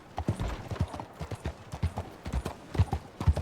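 Horse hooves clip-clop steadily at a trotting pace in Red Dead Redemption 2, the close, uneven double beats continuing for several seconds with a faint snort in the mix.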